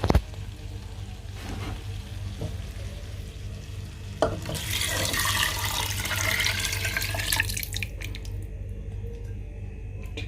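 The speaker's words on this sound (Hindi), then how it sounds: "पानी मैंने डाल दिया" Three cups of water pour into a pot of rice being made as Arabic rice with chicken, a steady rushing splash lasting about four seconds, preceded and followed by light kitchen clatter.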